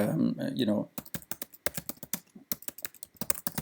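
Brisk typing on a computer keyboard while writing a message: fast, close, crisp keystrokes in an uneven run with brief pauses, following a moment of speech at the start.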